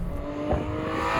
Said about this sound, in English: all I hear is that induction sound.